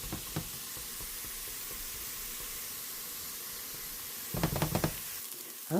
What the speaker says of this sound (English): our onion has been cooking between 3 and 4 minutes